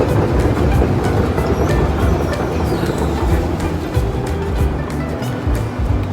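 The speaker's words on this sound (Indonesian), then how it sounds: "Kita udah nyampe di stasiun Utrecht Central." Train rumbling at Utrecht Centraal station, a dense, loud low roar of rolling rail cars with faint rattles and clicks, continuous throughout with no talk.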